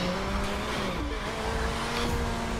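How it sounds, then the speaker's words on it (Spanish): In the racing game The Crew, a Honda car skids and drifts, its engine droning under squealing tires that rise and fall in pitch across a short burst. "Le he puesto algo al Honda que ahora me derrapa mucho más"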